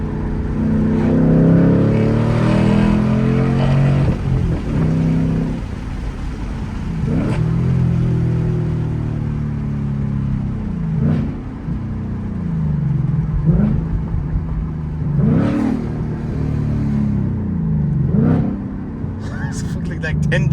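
A 2024 Ford Mustang GT fitted with a Roush X-pipe exhaust rumbles at idle and barks through a series of revs that swell and drop several times, close and loud, with a voice talking over it now and then.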